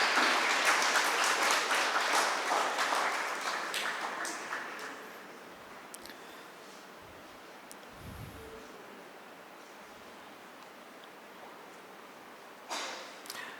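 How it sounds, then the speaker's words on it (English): An audience at an art exhibition inauguration and prize ceremony applauds the winners, a full burst of clapping that gradually thins and fades over several seconds, leaving near-quiet before a few late claps. "Please give them a big round of applause."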